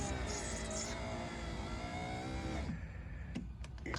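An electric window regulator motor in a 1989 Mercedes W126 560SEL whirs steadily as it closes the window, then cuts off partway through, leaving a few light clicks and knocks in a quieter background.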